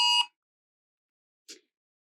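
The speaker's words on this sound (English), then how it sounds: "that was my alarm on my phone" A phone sounds a silver alert emergency alarm as a short, loud tonal beep, followed by a second faint chirp about a second later, with silence in between.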